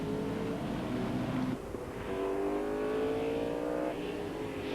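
TVR Tuscan race cars accelerating through Park on a narrow circuit at a 1994 race, a loud engine drone with rising harmonic pitch sweeps as the cars pull away and another surges in, continuous throughout.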